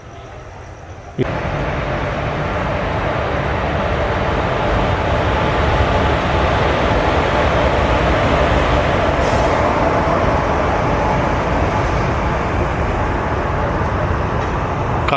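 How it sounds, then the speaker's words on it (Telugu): The Tirupati–Kakinada Town Express train arrives at a station, rumbling steadily past at close range, a loud continuous roar of wheels and carriages that starts abruptly and holds throughout. "సో ఇప్పుడే Tirupati Kakinada town express train అయితే వస్తుంది"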